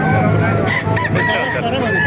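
A rooster crows loudly and close by at a chicken market in Baliuag, Bulacan, a long rising call, with other chickens clucking in the background of a busy setting.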